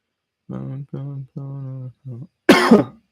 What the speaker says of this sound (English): Dry cough in the morning.